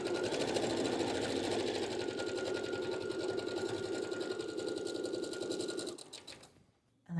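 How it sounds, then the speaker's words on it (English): A sewing machine runs steadily, stitching a quilt block with a quarter-inch seam in a beginner quilt project. The close, continuous mechanical whir with a rapid needle rhythm lasts about six seconds, then stops. "So load that into your machine. We're doing the 1/4 inch again."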